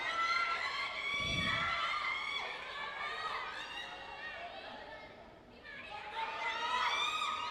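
A vocal crowd at a school football match in Sri Lanka, a Super 8 round game between SL Police and St. Mary's, chatters and shouts steadily in the background beneath continuous commentary.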